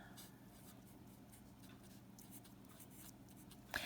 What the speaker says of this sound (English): So I'm going to write that down.